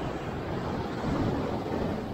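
Strong ocean waves break against a rocky shore during rock fishing, giving a loud, continuous roaring wash with slight swells and gusty wind rumble, no voices.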